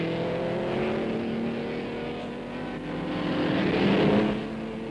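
Vintage race car at the 1960 Bathurst 100 Easter race, engine droning steadily near the microphone and swelling louder toward the end as it approaches.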